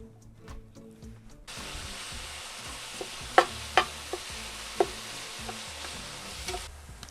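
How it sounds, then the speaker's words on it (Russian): Ground beef frying in vegetable oil in a pan, a steady close sizzle that starts after a quiet moment, with a few sharp scrapes and knocks of a spatula stirring the mince. "наливаем небольшое количество растительного масла и хорошенько обжариваем фарш"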